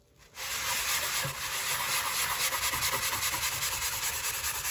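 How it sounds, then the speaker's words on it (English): Continuous abrasive rubbing of sandpaper on a Creality Ender 3 glass printer bed, a steady scratchy hiss with a slight back-and-forth rhythm, close up. "so I give it a good sanding all the way around"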